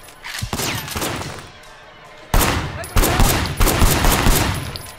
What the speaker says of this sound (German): jetzt geht's los, die Ballerei